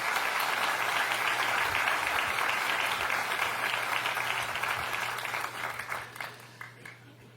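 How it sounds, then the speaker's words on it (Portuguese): A church congregation applauds loudly and steadily during a worship service, the clapping thinning out and trailing off toward the end over a low hum. "Dê para Jesus uma forte salva de palmas."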